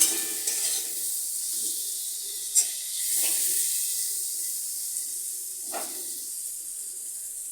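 Pumpkin slices fry in a pan with a steady low sizzle while being stirred after salt goes in, with a few distinct scraping strokes of the spatula against the pan.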